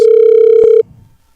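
A phone rings for an incoming anonymous call, a single loud, steady electronic tone lasting under a second and then cutting off, with faint low noise trailing after.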